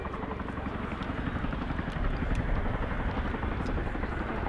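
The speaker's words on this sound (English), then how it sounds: "The Chinook has been continuously used by the Air Force as a battlefield helicopter for over 40 years" Chinook twin-rotor military helicopter at an air show, a loud close steady rotor thump and engine roar filling the scene throughout, with a commentator talking over it.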